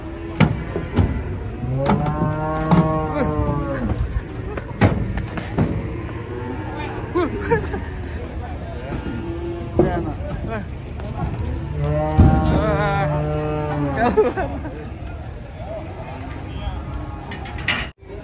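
Cattle low with long, drawn-out moos in two main bursts, close and fairly loud amid a noisy farm setting where an agitated cow is running wild, with people shouting and talking around them throughout.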